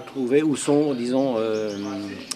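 Caged songbirds at a championship bird show in France sing a bright, continuous warbling trill, loud and close, with fluid rising and falling phrases.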